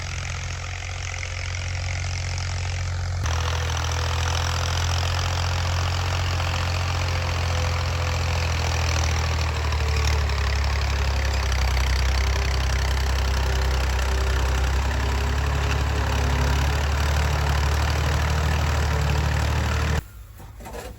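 A tractor engine idles steadily and loudly for the whole stretch, a constant low rumble that cuts off abruptly near the end.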